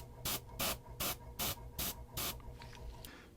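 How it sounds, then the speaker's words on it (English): An airbrush sprays paint onto a textured model tank in six short, even hissing bursts, close and fairly quiet, followed by a few softer scattered puffs. "Man, what fun it is airbrushing a textured object."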